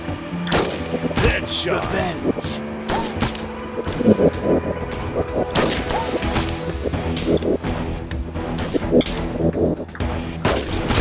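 Sniper rifle shots ring out in the mobile shooter Sniper Arena, a string of sharp bangs and impacts scattered across a busy game soundscape with a voice calling out now and then.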